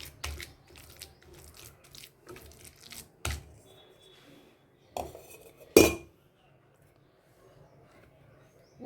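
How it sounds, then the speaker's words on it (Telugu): Mung beans mashed with a utensil for oats tikki, giving scattered soft scraping and clinking taps close by, with a few sharper knocks standing out among quieter stretches. "పెసని ఇలా మొత్తం ఇలా దీంతో స్మాష్ చేసేయండి"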